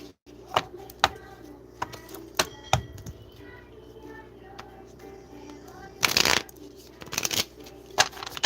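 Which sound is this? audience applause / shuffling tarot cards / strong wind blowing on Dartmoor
shuffling tarot cards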